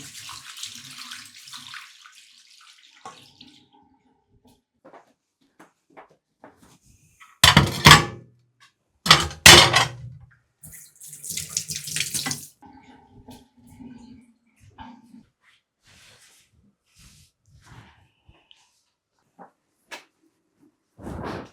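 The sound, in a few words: running water from a tap while washing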